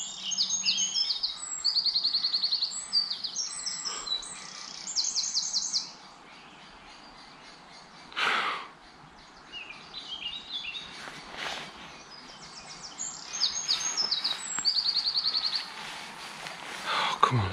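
Birds sing in an ancient English woodland, with repeated bright chirping phrases in bursts and pauses, fairly close and clear over quiet background, plus a few brief rustles.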